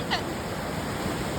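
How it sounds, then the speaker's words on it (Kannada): Ocean surf at Om Beach in Gokarna, heard as a steady, broadband wash of breaking water that holds at an even level for a brief moment, with no voices over it. "ಅಲೆ ಬಂತು ಅಲೆ ಬಂತು ಅಲೆ ಬಂತು"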